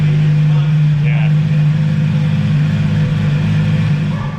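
Porsche GT3 with a straight-piped exhaust running loud and close, a steady deep engine drone that holds throughout with slight swells, as voices talk faintly over it.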